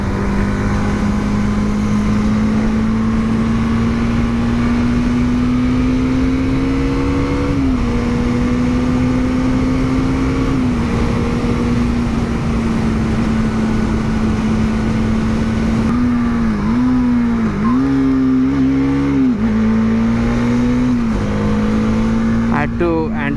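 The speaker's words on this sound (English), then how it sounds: "I like to hear this bike on the higher RPMs" A 2018 Bajaj Dominar motorcycle engine held at high RPM in fifth gear on the road, a loud steady drone with pitch dips and rises as the throttle eases and returns, continuous for over twenty seconds.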